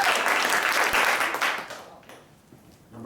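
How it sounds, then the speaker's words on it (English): An audience at an improv theater show applauds in a dense burst of clapping that fades out after about two seconds, leaving a quiet room with faint noise. "A round of applause if you think this number 2 danced better."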